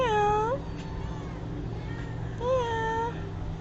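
A cat meows twice at close range, two clear drawn-out mews separated by a pause, over a low steady background hum.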